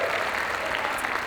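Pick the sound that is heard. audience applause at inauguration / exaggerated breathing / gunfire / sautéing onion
audience applause at inauguration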